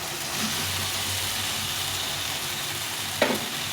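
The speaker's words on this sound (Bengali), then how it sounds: "মশলাটা ভাজা হয়ে গেছে এখন ফুলকপি আলুটা দিয়ে দেবো" Cauliflower and potato go into a frying spice mix in a pan, a soft, steady sizzle near and faint, broken near the end by one sharp clatter.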